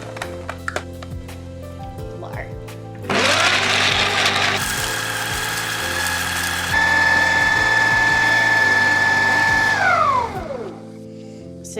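A kitchen food processor or blender grinds dates for a raw vegan cheesecake crust, starting with a rattling start-up, then a loud steady whine that shifts pitch midway and winds down at the end, with no talking.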